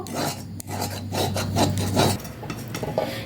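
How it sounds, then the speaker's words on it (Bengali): Thick rice flour dough for pitha is stirred in a pan, giving close, rhythmic scraping and rubbing strokes, roughly two per second, over a low steady hum. "চালের গুঁড়ো ধোয়ার সাথে সাথে এইভাবে নাড়তে হবে যাতে দলা পেকিয়ে না যায়"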